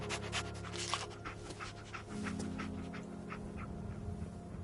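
Dogmeat, the dog companion in Fallout 4, pants in a steady rapid rhythm over a continuous low game hum and ambient drone, the breaths close and fairly soft.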